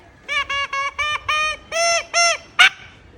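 A bamboo flute mimics an egg-laying hen's call, as seven short, evenly spaced hooting notes and a sharp final squeak, played alone and moderately loud.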